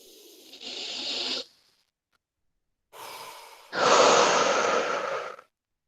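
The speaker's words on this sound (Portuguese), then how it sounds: "De novo, inspira. E solta tudo. E última vez, inspira." Slow, deep breaths during a guided relaxation exercise: a soft inhale, a pause of silence, then a longer inhale followed by a strong, drawn-out exhale, close and clear with no talking.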